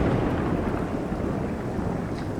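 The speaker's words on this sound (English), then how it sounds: "Yeah, I don't think you can hear anything right now with the thunder," Thunderstorm with steady heavy rain in the Minecraft video game, a dense continuous roar of rainfall with low rumbling thunder, loud and unbroken throughout.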